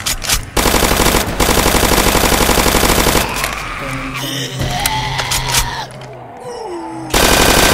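Rapid automatic gunfire in the Roblox zombie shooter game, loud and sustained in bursts, pausing midway for shouted voices and game sounds before the firing resumes.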